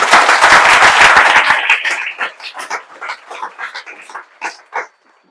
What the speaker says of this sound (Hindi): ताली बजा दीजिए भाई इनके लिए